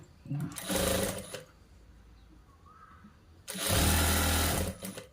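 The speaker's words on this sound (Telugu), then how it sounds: "ఇప్పుడు బటన్స్ది కుడుతున్నా అండి" A sewing machine stitches the buttonhole strip of a boy's school uniform shirt in two loud, close running bursts, a quiet pause with faint room noise between them.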